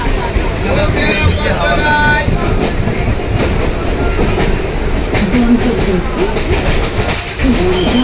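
A crowded passenger train bound for Bangaon station running with a steady loud rumble and rhythmic rail clatter, with passengers chattering throughout.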